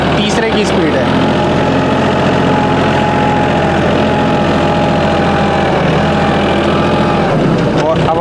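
A Mahindra OJA 2127 tractor engine runs steadily in third gear at low range around 1500 to 1700 rpm, a loud, continuous close-up drone with a voice talking over it throughout.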